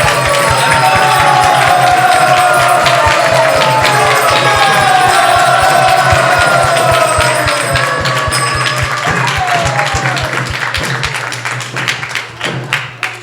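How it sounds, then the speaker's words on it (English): Loud crowd applause at a religious gathering, with dense clapping and some cheering, over a rhythmic low drum-like tapping that runs through most of it before thinning out near the end. "So please, a great round of applause with gratitude for Malan Devi Dasi, Sri Krishna Purushottam"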